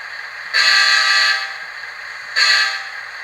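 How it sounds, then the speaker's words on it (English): K5LH air horn from an NCE sound decoder in a model train, two loud chord blasts, a longer one then a shorter one, close and clear with no talk. "Here we have the air horn as the K5LH"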